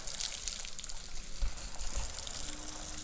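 Water sprays steadily onto a patch of newly laid grass at a hillside cottage plot, a soft continuous hiss and patter with a few low thumps, fairly quiet and without voices.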